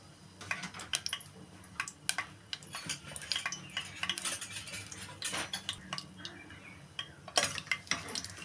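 Whole spices, bay leaf, cloves, cardamom, cinnamon and star anise, go into hot oil in a pressure cooker, heard as close clinks and scrapes of a spoon against metal over a faint low frying crackle.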